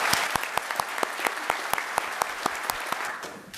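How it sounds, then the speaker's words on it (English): Sustained applause from an audience at a Coast Guard ceremony honoring medal recipients, a steady wash of many hands with sharper nearby claps standing out, fading slightly at the end. "Please join me in another round of applause for these heroes."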